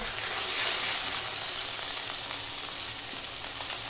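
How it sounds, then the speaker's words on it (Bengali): Onion paste fries in oil for a prawn masala, producing a dense, continuous hissing sizzle close by with faint stirring, and no talk. "পেঁয়াজ বাটা দিলাম।"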